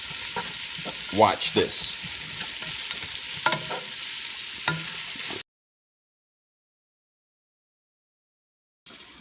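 Garlic and onion fry over high heat in a pot, giving a steady sizzle broken by a few louder stirring scrapes, then cutting to silence before a brief return at the end; a short spoken phrase comes in near the start.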